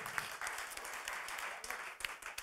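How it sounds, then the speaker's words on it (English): Audience applause after a pitch competition session, a steady wash of many hands clapping at moderate distance, with a few sharper claps standing out and faint voices mixed in. "Big applause."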